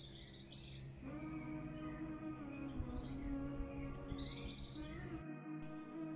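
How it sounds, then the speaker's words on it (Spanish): Small birds chirp and tweet in short, high bursts against a quiet background at 3:30 a.m. before dawn, with a steady high insect-like tone. "Está escuchando la voz de los pajaritos"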